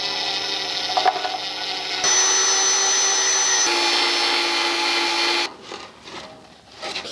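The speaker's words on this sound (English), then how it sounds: "I'm going to start with a 3/32 tiny little drill bit." A power drill with a tiny 3/32 bit whines steadily as it bores into an engine oil pan on a Honda K24, holding a loud, high-pitched tone for several seconds before spinning down with some clatter.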